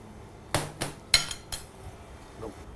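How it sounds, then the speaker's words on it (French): Spiny lobster meat being pulled from its shell, a few sharp cracking and clinking snaps at irregular intervals, close and fairly quiet against a soft background. "Nous allons enlever la chair de la carcasse."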